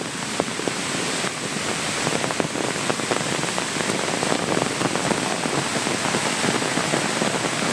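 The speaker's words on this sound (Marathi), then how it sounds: "काड्या जाऊन जोरात पाणी आलं आहे" Steady rushing water of a stream in the Konkan countryside fills the scene, a dense continuous roar with spatters, no voices.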